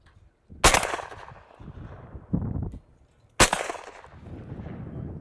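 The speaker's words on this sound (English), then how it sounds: "it's a semi-automatic shotgun" Two loud, sharp shotgun blasts from a Remington 1187 12 gauge semi-automatic, a few seconds apart, each trailing off in a rumbling outdoor echo.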